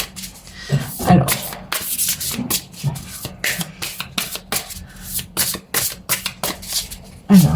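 Tarot cards are shuffled by hand in repeated quick bursts of riffling and sliding, a steady, close, papery rhythm with brief pauses and no talking.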